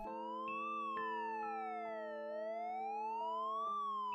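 A police car siren wails in a slow rising and falling sweep, clear and steady with no other sound, used as an effect in an Italian audio drama.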